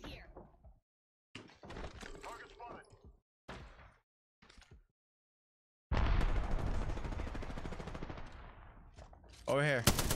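Bursts of gunfire crack in the Apex Legends video game, short volleys separated by silences, then a sustained louder stretch of rapid shots near the end, with a voice speaking amid the action.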